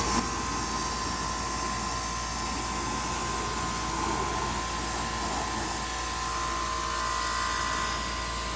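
A pressure washer rinsing a car with a 40-degree nozzle at a touch-free wash, giving a steady, loud, broadband hiss and roar of spraying water that holds evenly throughout without pauses.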